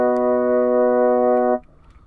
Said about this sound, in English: select the Rhodes preset